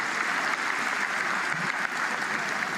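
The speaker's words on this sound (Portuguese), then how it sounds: "Queria uma salva de palmas para as mulheres, prefeitas, vice-prefeitas." Dense, continuous applause from a large audience at a national mayors' gathering in Brazil, honoring women mayors and vice-mayors, a steady roar of many hands heard from a distance without pause.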